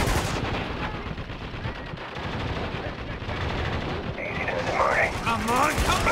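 Heavy gunfire in Spec Ops: The Line, dense bursts of machine-gun fire and shots rattling continuously with voices talking over the battle and chaotic effects toward the end.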